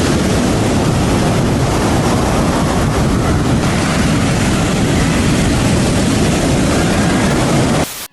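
Giant ocean waves at Lumahai Beach, Hawaii, make a continuous heavy roar of surf, loud and close, blended with gusty wind on the microphone before cutting off abruptly.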